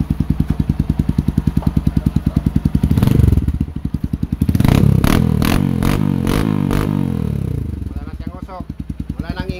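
Noisy Honda XR150 motorcycle engine idling nearby with a rapid steady clatter, briefly revved twice before settling back, loud and alone without talk.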